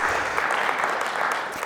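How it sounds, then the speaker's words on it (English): Event attendees give a round of applause to the sponsors Conner Prairie and Indiana Humanities, a close, steady burst of many hands clapping throughout. "Round of applause to them for everything they've had to deal with."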